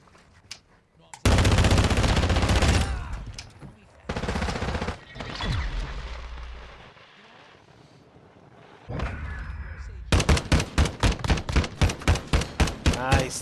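Call of Duty gunfire in a multiplayer match: sustained automatic bursts, then a quieter stretch with a low rumble, ending in a rapid run of sharp evenly spaced shots, loud and close.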